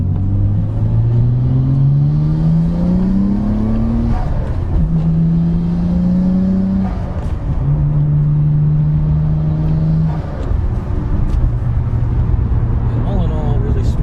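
Nissan Skyline GTR R33 accelerating hard from a second gear roll, engine pitch climbing through several gears with clear drops at each shift, loud and close with road rumble underneath.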